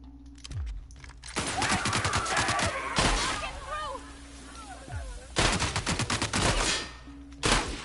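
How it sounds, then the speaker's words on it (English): Gunfire in The Outer Worlds video game comes in rapid bursts of loud, clustered shots with brief pauses between volleys, mixed with game effects and some speech. "Shotgun sucks."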